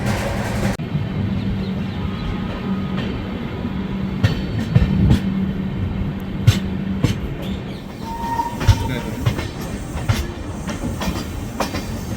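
The Mahakaushal Express rolls along the rails toward Hazrat Nizamuddin, a steady low rumble with sharp clicks and clanks of wheels over rail joints and occasional faint squeals, no voices.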